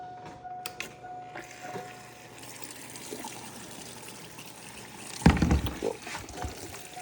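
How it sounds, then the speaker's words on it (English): Fuel is pumped from a truck fuel line through a rag, a close liquid trickle that swells into a brief gushing spurt before settling back to a dribble. "So I'm gonna try and pump this fuel through a rag."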